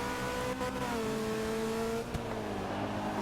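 V8 Supercars race cars running in Round 4 qualifying make a loud, continuous engine drone. The harmonic whine shifts in pitch as the cars go through the throttle and gears, with no break throughout.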